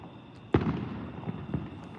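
Fourth of July fireworks going off outdoors: one sharp, heavy bang followed by a few lighter pops and crackles at a moderate distance, with no talk.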